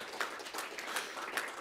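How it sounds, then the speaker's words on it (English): Audience at a biomass industry conference giving a round of applause, steady moderate clapping from many hands, somewhat distant and quiet, without talk. "Just a round of applause for him also."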